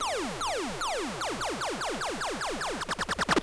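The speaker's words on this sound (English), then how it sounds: "And then also the next one is a tonal riser." A tonal riser synth effect for a future bass build-up, a square-wave patch in Massive, fires a stream of quick pitch-sweeping tones that speed up steadily into a rapid stutter. It sounds clean and moderately quiet, with no voices.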